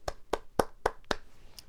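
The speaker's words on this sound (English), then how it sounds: "You are clapping." Hands clap five times in a quick, even rhythm, close and crisp, with no talking.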